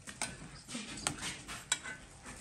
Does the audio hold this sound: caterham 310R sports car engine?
no